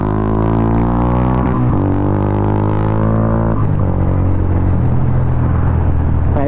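A motorcycle fitted with a big elbow exhaust pipe and a Yoshimura muffler, its engine loud and close with a deep rumbling drone that revs up and settles twice, steady throughout with no talking.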